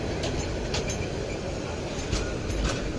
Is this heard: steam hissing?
no